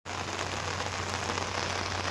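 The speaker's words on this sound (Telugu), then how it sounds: "వర్షం బాగా పడుతుంది" Heavy rain pours steadily and loudly outdoors near the Vaishno Devi temple, a dense, unbroken hiss that fills the whole moment with no voices.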